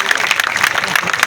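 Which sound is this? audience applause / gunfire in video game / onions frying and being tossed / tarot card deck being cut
audience applause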